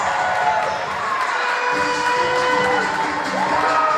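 A school-themed pro wrestling event crowd in Delaware cheers and shouts loudly, with children's yells and whoops rising over a continuous roar of the audience.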